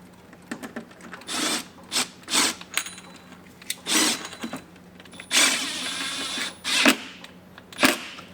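A 1-inch screw with a 2-inch washer driven into a fender insert on a 2021+ Yamaha Wolverine RMAX2 1000 while fitting Rokblokz fenders: several short, close whirring bursts separated by brief pauses.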